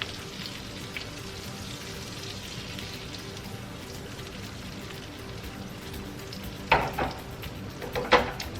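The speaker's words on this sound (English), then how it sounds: "what I'm going to do is baste them in the butter" Eggs cooking in butter in a pan with the heat turned off give a soft, steady sizzle close by, then a few sharp spoon-and-pan clinks near the end as the butter is spooned over them.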